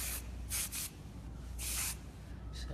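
Short hissing bursts of hair product sprayed onto hair sections during a haircut, three or four quick spritzes close by at a fairly low level.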